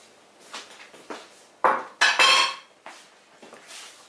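Béchamel sauce being stirred in a pot after the mix is poured into steaming milk: scattered clinks and scrapes of a utensil against the pot, with a few sharper knocks in the middle, close and moderately loud.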